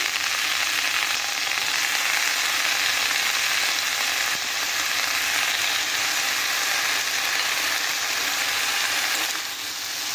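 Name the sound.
young pumpkin leaves frying in oil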